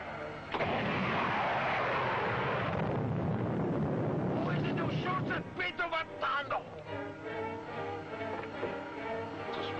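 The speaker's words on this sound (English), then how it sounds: "Prepare to fire 3rd missile, Biff." Missile firing effect from a 1954 science-fiction space show, a loud roaring rush with a long noisy burst, then dense rumbling and crackling as it fades, with no talk over it.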